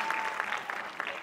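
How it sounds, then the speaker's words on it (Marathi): An audience clapping at a children's stage play, a short burst of brisk, moderately loud applause from a crowd. "जोपर्यंत जोरात टाळ्या वाजवणार नाही तोपर्यंत नाचायची."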